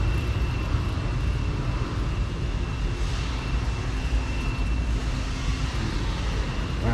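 A Mustang's engine runs at a car show, giving a steady, loud, low rumble with constant broadband roar throughout and no pauses or talking.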